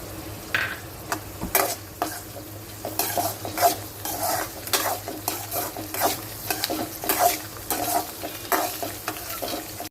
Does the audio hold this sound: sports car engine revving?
no